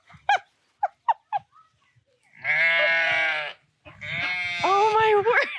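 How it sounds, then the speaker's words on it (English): Newborn lambs bleat loudly and close by in long, wavering calls, with a few short voiced sounds beforehand. "3 healthy lambs."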